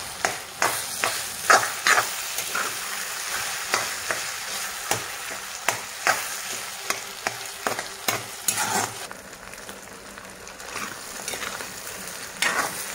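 Fish roe frying in plenty of hot oil, with steady sizzling and crackling broken by repeated sharp stirring scrapes, fairly close with no talk.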